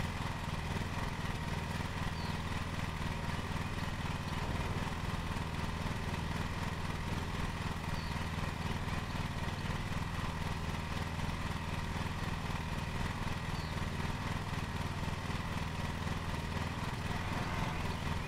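The lawn mower engine in the Lawn Mower Simulator video game, a steady droning hum held at constant loudness from start to finish, without a break and with no talking.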